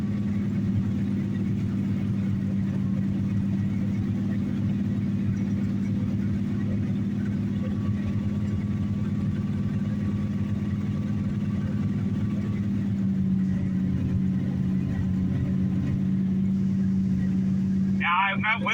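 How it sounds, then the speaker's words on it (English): A 1986 Dodge D-150 pickup engine idles steadily after a cold start with no choke, a continuous low rumble that stays close and even throughout, with a brief rustle near the end. "I say we'll let her run for a little bit."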